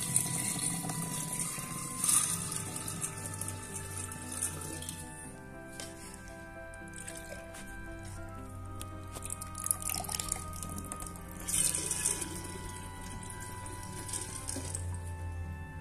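Water is poured steadily into a homemade aquarium, a faint continuous splashing and trickling with occasional drips, fairly quiet throughout.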